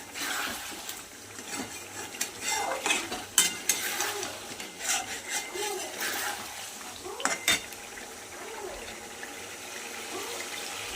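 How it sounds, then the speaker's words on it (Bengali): Chicken being stir-fried with masala in a pan, with irregular metallic scrapes and clanks of a spatula against the pan over a low sizzle, close by. "দেখুন বন্ধুরা সুন্দর করে একটা কষাচ্ছি"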